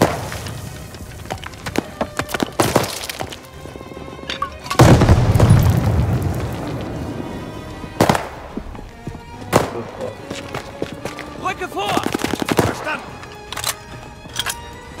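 Gunfire and explosions in the Call of Duty Vanguard Battle of Stalingrad mission. Loud booms and sharp, splintering bursts arrive at irregular intervals, with a heavy rumbling blast in the middle and rapid cracks near the end.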